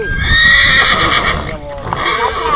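A horse whinnies in a long, wavering neigh right up close, with people talking nearby throughout.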